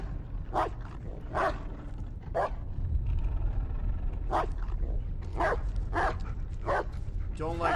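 Bullet, the German Shepherd-style companion dog in the horror game Blair Witch, gives several short barks and yips spaced across a few seconds over a low rumbling game ambience.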